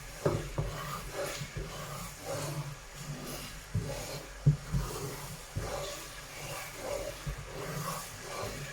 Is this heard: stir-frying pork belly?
yes